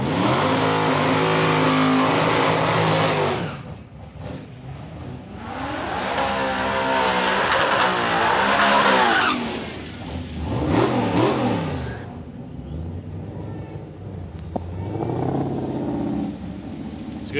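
A drag racing car launches down the strip at Palmyra Raceway with a loud, roaring engine that climbs through gear changes, fades, then surges again in repeated rising and falling passes.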